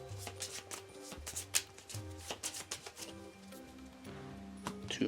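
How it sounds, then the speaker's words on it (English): Playing cards being shuffled for the Monster Hunter World board game, a run of quick crisp riffling and slapping bursts up close, with no talking. "Gonna have to shuffle and draw 2 more."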